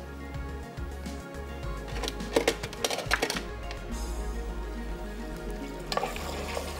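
Garlic and ginger fry in a pan with chillies and cardamom for a malai tikka boti dish, giving a steady low sizzle broken by sharp scraping and clattering stirs in the middle and near the end.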